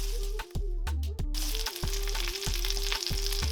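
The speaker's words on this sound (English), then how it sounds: "now the steak has been cooking for about 3 minutes" A Wagyu ribeye steak sizzles loudly in a pan, giving a dense, constant frying hiss close to the listener. Brief dips and a few light clatters break the sound now and then, and no one talks.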